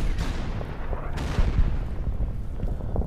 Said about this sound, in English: Let's start firing on this guy.